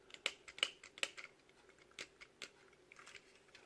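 Small sharp clicks from a Hasbro Transformers Combiner Wars Hook toy part rubbing against another piece, a few quiet isolated ticks close by in near silence.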